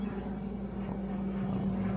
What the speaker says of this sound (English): Got a plane flying up right now.